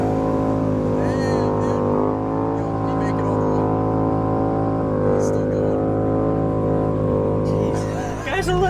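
A C5 Corvette with a Billy Boat Bullet axle-back exhaust drones loudly and steadily throughout, its rough tone holding near and constant as people talk and shout over it.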